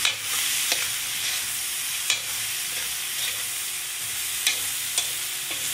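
Kikiam and squid balls fry in a pan for pancit, a steady sizzle with occasional sharp clacks of a spatula stirring and scraping, close and alone without voices.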